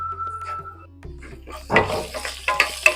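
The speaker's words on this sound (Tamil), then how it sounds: "இதையும் சேர்த்து இதை நல்லா வதக்குங்க. இந்த மிளகா பழம் நல்லா வதங்கணும்." Ripe red chilli, garlic and ginger sauté in hot oil for an Andhra-style brinjal thokku: a quiet hum gives way midway to loud, close sizzling with stirring scrapes and spattering pops.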